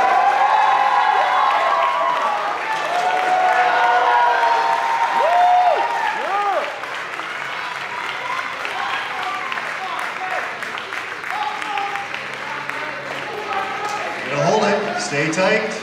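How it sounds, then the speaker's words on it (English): Crowd applause and cheering at a bodybuilding posing round, a sustained roar of clapping and shouts that later thins out, with someone talking over it throughout. "Give them a round of applause here."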